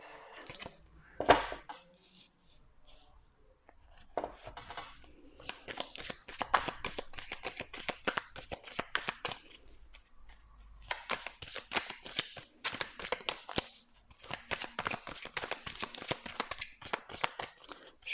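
Playing cards are shuffled close up in repeated bursts of rapid riffling and flicking, quiet but crisp, with brief pauses between rounds.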